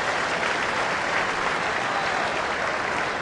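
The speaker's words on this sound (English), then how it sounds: "Washburn will get a nice round of applause" A ballpark crowd at a 2009 Kansas City Royals at Detroit baseball game gives a round of applause for Washburn after a two-out single: loud, continuous, dense clapping and crowd noise from a big stadium, steady throughout.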